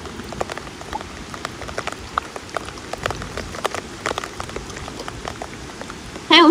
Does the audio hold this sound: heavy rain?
yes